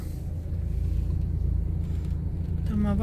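Cars crawl in a rainy Moscow traffic jam, heard as a low steady rumble of engines and road noise from inside a vehicle, with a brief voice near the end.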